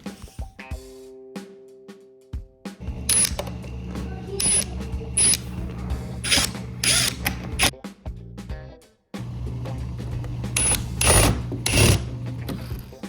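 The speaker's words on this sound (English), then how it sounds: "We're just gonna line up the holes and insert the bolts and tighten them down" A ratchet clicks in repeated bursts as bolts are tightened on a dishwasher during a leak repair, with metallic ratcheting strokes and brief pauses between, close and fairly loud.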